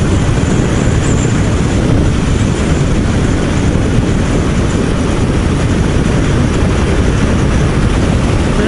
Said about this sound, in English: they got a triple banker, 3 engines on that train